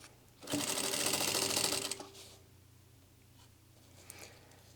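A sewing machine lock-stitches down a zipper tape for a packing cube with a 1/4 inch seam allowance, a fast close whirring burst of about a second and a half, followed by quiet handling.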